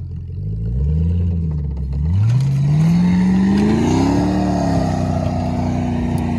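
A Jeep Grand Cherokee engine revs hard as it strains to rip a bumper off, loud and close, with the pitch sweeping up and down and then holding at a high, steady roar.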